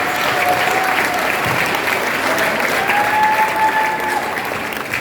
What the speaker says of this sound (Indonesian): Dan kami hormati kita tepuk tangan kepada teman-teman.